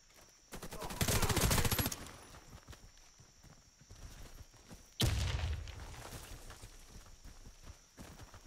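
Gunfire in the Warface shooter game, with two loud bursts of shots separated by quieter stretches, heard alone without talk.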